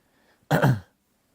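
A single short, sharp cough close to the microphone, with quiet before and after.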